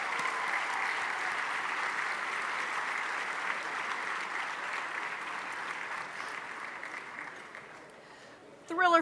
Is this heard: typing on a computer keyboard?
no